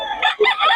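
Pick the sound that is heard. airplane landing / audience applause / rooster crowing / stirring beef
rooster crowing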